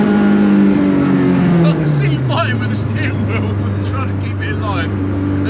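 Mini Clubman with a 1.8-litre turbocharged K-series engine swap, heard from inside while driving as a loud, steady engine drone that drops in pitch as it shifts, with a person talking over it.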